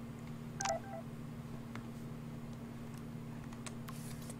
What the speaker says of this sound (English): Got a text message from Chloe.